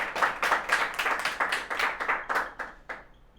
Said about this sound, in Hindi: जोरदार तालियां हो जाए भाई उत्कर्ष यादव के लिए